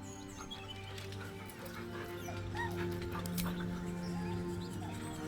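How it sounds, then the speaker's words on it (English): A dog in Baldur's Gate 3 whimpers nervously, giving thin high whines and soft yips over a low ambient music bed, close and moderately loud. "The dog whimpers nervously"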